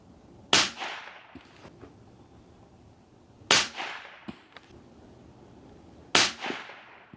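Three sharp, loud rifle cracks from a Ruger 77/22 in 22 Hornet firing VMAX ammo at the range, spaced about three seconds apart, each trailing off in a short echoing decay, with faint clicks between shots and no talk.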